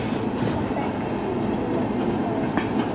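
CN freight train A482 rolling northbound through Lenox Township, Michigan, heard as a loud, steady, close rumble with continuous wheel clatter throughout and no pauses.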